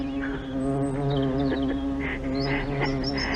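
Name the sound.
bumblebee buzzing while collecting pollen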